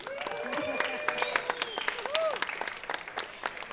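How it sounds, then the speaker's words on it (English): Applause from an audience, a steady patter of many hands clapping with scattered cheers and some talking mixed in. "Now you can clap."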